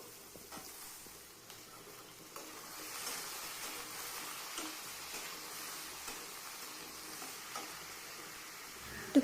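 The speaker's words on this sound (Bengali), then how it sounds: "এর মধ্যে দিয়ে দেবো যে কেটে রাখা আলুগুলোকে অল্প কিছুটা ভাজতে হবে।" Cut potatoes fry in hot oil in a wok for a vegetarian ridge gourd and poppy seed dish, giving a steady close sizzle with occasional stirring scrapes throughout and no voices.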